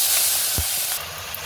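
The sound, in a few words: tomato paste frying in a pan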